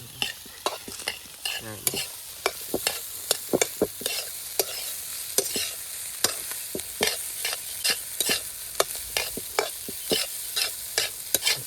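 Egg fried rice stirred in a pan over an outdoor wood-fired stove, with a steady sizzle under repeated sharp scrapes and knocks of a spatula against the pan at an uneven rhythm, close up, with no speech.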